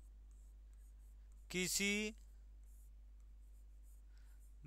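Writing on a board during a classroom lesson on viscous force in fluids: faint, low scratching strokes beneath a steady room hum, with one short spoken word in the middle.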